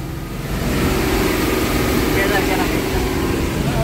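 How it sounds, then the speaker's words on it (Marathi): A truck pulls away from a mine, its engine giving a loud, steady, close rumble that holds constant throughout, with speech mixed in. "सणानं निघाली गाडी पुढे."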